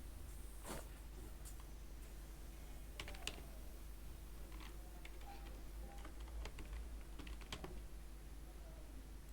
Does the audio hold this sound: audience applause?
no